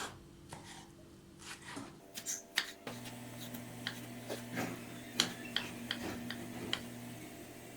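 Knife cutting eggplant into cubes on a board: irregular sharp taps and clicks, sparse at first and then quicker and more regular over a low steady hum.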